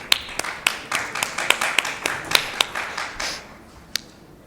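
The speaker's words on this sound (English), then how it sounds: "Please give her a huge round of applause." Audience applause at a medical awareness conference: a small group of hands clapping in a fairly even, sparse rhythm of distinct sharp claps, close and moderately loud, thinning out toward the end.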